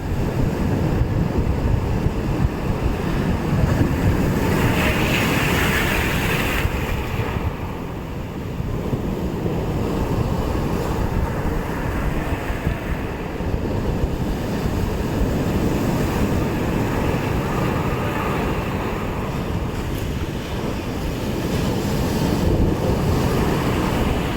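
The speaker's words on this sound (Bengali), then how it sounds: "যখন ক্যামেরা অফ থাকছে তখন বড় বড় ঢেউ আসছে এই রকম হয়েছে ব্যাপারটা এই দেখো দেখো করো করো বাপ রে বাপ কি গর্জন" Big ocean waves roar and surge continuously at Digha beach, a loud, steady wash of surf mixed with heavy wind buffeting the microphone, with no voices over it.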